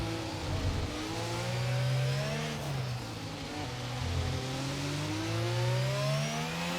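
F1 race cars accelerate at Miami in F1 22, engines whining up and down through the gears with a smooth, continuous tone, steady and fairly close with no voices.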